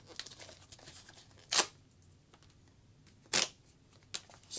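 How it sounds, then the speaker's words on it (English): A corrugated cardboard envelope torn open by hand: two loud, sharp ripping bursts with a quieter start of a third, separated by soft rustling and handling noise, close up and without talk. "Oh, I can rip it."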